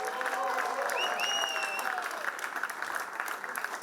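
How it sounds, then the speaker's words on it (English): Steady applause from a crowd, dense clapping that fills the whole stretch, with some cheering and whistles rising above it early on. "A big round of applause to these three magicians"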